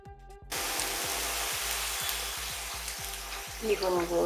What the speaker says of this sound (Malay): Gaullah lagi untuk sekian kalinya sampai betul-betul sebati.